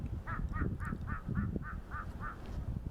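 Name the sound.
crows cawing on Bukhansan mountain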